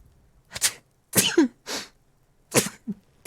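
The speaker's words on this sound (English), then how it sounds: "I'm gonna sneeze right now." A person gives a few short, sharp bursts, sneeze-like and cough-like exhalations spaced irregularly and close to the microphone, in an otherwise quiet room.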